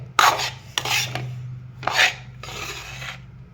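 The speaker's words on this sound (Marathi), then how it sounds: "आपण थोडं थोडं हलवत राहायचं आहे नाहीतर गरम आहे ना त्यामुळं करपू शकते" A spatula stirs roasted gram flour (besan) in a hot pan for besan laddoos, with the gas turned off. Four close, dry rasping scrapes are heard alone, with brief pauses between them.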